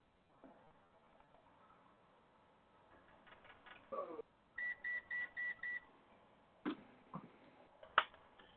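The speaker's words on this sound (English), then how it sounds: "No, that was my multimeter. It beeps at me if I don't turn it off." A multimeter left switched on sounds a short run of four evenly spaced electronic beeps, framed by quieter scattered clicks and knocks.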